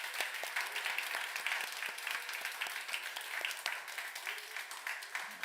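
A church congregation claps steadily in a spread-out round of applause, moderately distant and even throughout.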